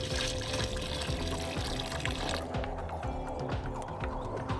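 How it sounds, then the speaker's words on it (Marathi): Water pours into a small pot holding a sago papad mixture, a loud, close, continuous gushing splash that softens slightly partway through. "थोडंसं एक पातेलं आपण छोटं पाणी घालून घ्यायचं"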